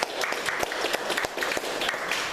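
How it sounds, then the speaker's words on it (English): A crowd applauding steadily, dense clapping throughout with a few sharper individual claps standing out. "I want to give a round of applause to our guest speaker, Joe Fox."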